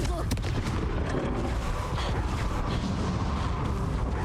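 The Confringo blasting spell goes off in the Hogwarts Legacy video game as a loud, dense burst of explosive, gunfire-like crackling and rumbling that fills the whole moment.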